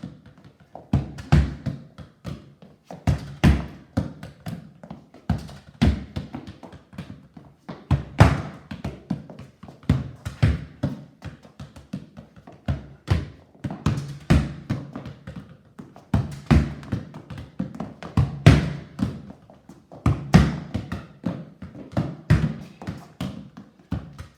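Soccer ball being struck in a two-touch football training drill at home, giving a steady run of soft, close thumps and taps in quick pairs with no talking.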